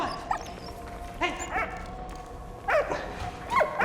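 A dog in the video game Valiant Hearts gives several short barks and yips in irregular bursts, close and clear over a quiet background.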